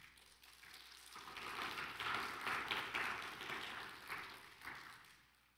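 A church congregation applauds: soft, distant clapping swells into a steady patter, holds for several seconds and then thins out, with no voices over it.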